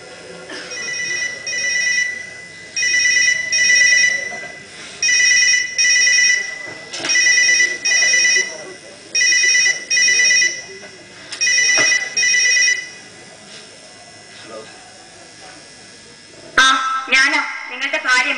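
A telephone rings during a 2010 college drama performance on stage, sounding in repeated regular bursts roughly every second and a half, loud and near, before the ringing breaks off into clattering handling noise near the end.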